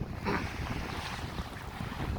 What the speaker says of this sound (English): I know it's a bit windy today.